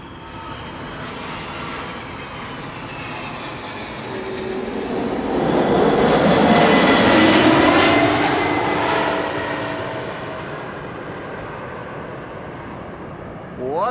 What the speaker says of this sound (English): Each airplane type has their own typical sound formed by the engines